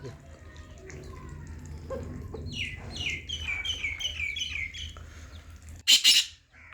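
Chickens, including a Lakha rooster, cluck and chirp in a village yard under a man's nearby speech, ending with a sharp loud squawk.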